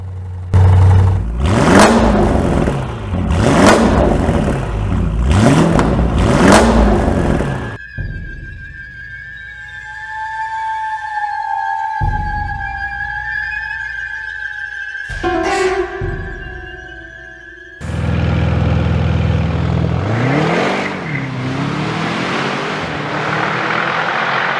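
An 820-horsepower Mansory and MTM tuned Audi RS6 with a 4-liter twin-turbo V8 launches from a standstill, with loud rising revs and repeated gear changes, then a quieter stretch with a steady tone before another loud burst of engine roar.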